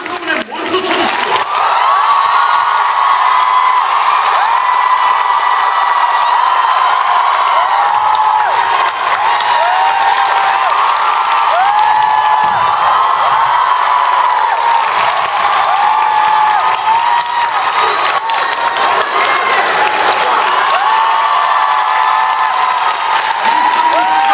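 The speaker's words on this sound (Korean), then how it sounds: "여러분들 99회 박수를" A theatre audience applauds and cheers at a curtain call, loud sustained clapping with whoops and shouts rising and falling across the whole stretch.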